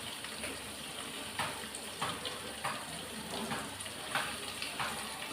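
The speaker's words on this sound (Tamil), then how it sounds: "இந்த தண்ணியோடய அப்படியே ஊற்றிடலான்னு பார்க்குறேன்." Water poured into a cooking pot while a South Indian lunch of kulambu and beans poriyal is prepared, heard as a steady, close splashing gush with small bursts throughout.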